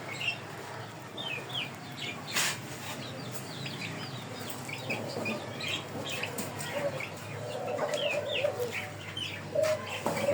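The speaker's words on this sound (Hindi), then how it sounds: "ये लूंडा मुर्गा है" A rooster in a backyard poultry cage gives repeated short clucks and chirpy calls over a steady farmyard background, fairly close and moderately loud, with no talking.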